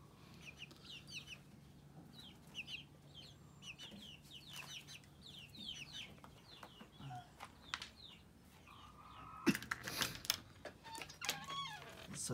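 Chickens clucking inside a garage coop on a small farm with a rooster among them, faint repeated clucks and chirps over low hum, with louder busier clucking and rustling near the end.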